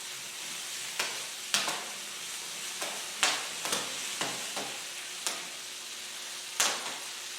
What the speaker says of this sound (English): as the popcorn pops, it's pressing the tin foil out of the way